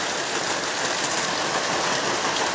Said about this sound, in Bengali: তারপর দেখতে পারবে কীরকম বৃষ্টি দিচ্ছে।